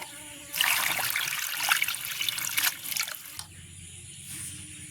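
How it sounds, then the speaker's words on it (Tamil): Water pours steadily over raw prawns for about three seconds with a splashy, bubbling trickle, then cuts off, leaving quiet background hum. "இனி திருப்பி நாங்கள் இந்த இறாலுக்கு தண்ணியை விட்டுட்டு இறாலை உடைச்சி எடுப்போம்"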